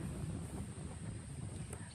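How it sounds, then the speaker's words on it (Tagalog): Strong wind gusting across an open rice field around midday, a steady loud rushing roar with low buffeting rumble against the microphone, no voices. "Lakas ng hangin talaga, kaya masarap sa balat."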